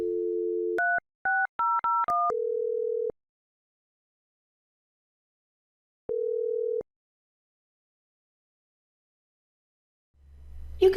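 Office telephone on an Enterprise 20 system places a call using abbreviated dialing: a steady dial tone, then a quick run of touch-tone beeps and a longer tone, a pause, one more tone, and faint noise at the end, with no talking.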